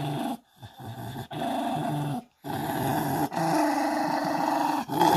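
A Jack Russell terrier growls in low, rumbling bursts broken by brief pauses, close and sustained over several seconds, with no talk over it.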